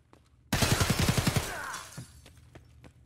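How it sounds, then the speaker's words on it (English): M4 rifle fire in Escape From Tarkov: a rapid automatic burst of about ten loud shots in quick rhythm, trailing into echoing reverb, followed by a few faint distant cracks. "I hear him shooting the M4."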